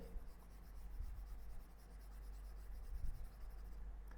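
Pen or marker writing code by hand on a surface makes continuous soft scratchy strokes at close range. The rubbing stays faint and steady, and no one speaks.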